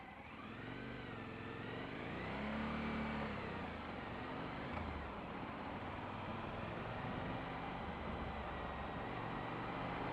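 A 2017 Suzuki V-Strom 1000 XT two-cylinder motorcycle engine under way: a steady, loud engine drone with rising and falling pitch, mixed with wind and road noise, continuous throughout.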